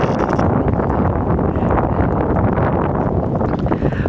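Strong wind along an icy shoreline in 0-degree cold buffets the microphone in a continuous, loud rumbling roar, with gusty fluctuations throughout and no speech.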